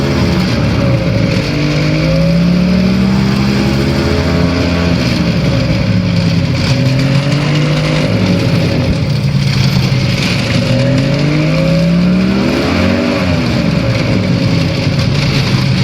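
The engine of a Challenger II ultralight aircraft drones loud and steady during the takeoff roll down a runway, its pitch rising and falling gradually as the throttle is eased forward, with no voices over it.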